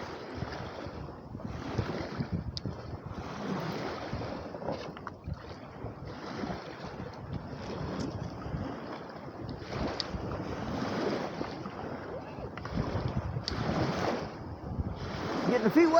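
Strong wind buffets the microphone with a steady roar while waves wash and surge along a lakeshore, loud and continuous, as a small Axial SCX10 II RC crawler works the shoreline.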